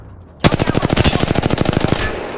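Rapid automatic gunfire in the Apex Legends video game: a loud, close burst of about twenty evenly spaced shots lasting under two seconds, then a short fading tail.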